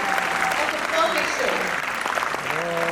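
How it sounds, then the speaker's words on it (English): An audience applauds after a ballet performance at Muskaan's 7th Ballet Expose in Jaipur, a steady wash of clapping with voices and some tonal sound mixed in. "Can we please have one huge round of applause"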